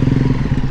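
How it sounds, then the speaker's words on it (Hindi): A motorcycle ridden over stones near Jabri Waterfall in Haripur sounds close and loud, a steady low engine throb with rough rhythmic pulsing and clatter from the rocky ground. "हम ज़रा चलते हैं आगे पत्थरों में बाइक चलाते हुए।"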